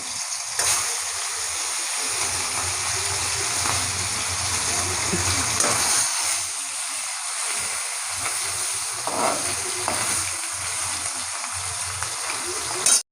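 Rohu fish fries in a pan, giving a steady, even hiss like light rain that runs throughout, with a few faint clicks and a murmur of voices in the background.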